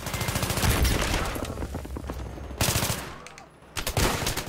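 Rapid bursts of AEK-971 assault rifle fire in the Battlefield 3 video game, loud and close, with dense automatic volleys broken by a brief lull before firing resumes.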